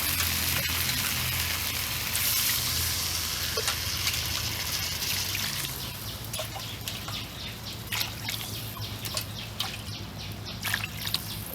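Water is poured onto a fried, browned spice paste in a hot pan, setting off a continuous loud sizzle and bubbling hiss with scattered crackles and pops throughout.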